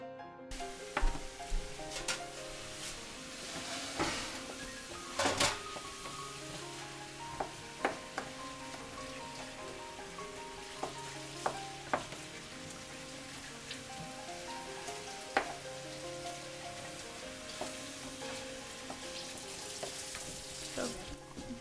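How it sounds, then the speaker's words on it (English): Sausage pieces frying with onions and celery over medium-high heat, a soft continuous crackle like light rain with scattered clicks and scrapes of a spoon stirring and breaking up the meat. "We put it on a medium-high heat and just keep stirring and breaking up the pieces of sausage"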